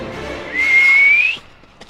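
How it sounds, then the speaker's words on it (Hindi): A single rising whistle, clear and close, blown to call a horse; it holds for about a second above some low background murmur, then stops abruptly. "सीटी मार के तो घोड़े को बुला।"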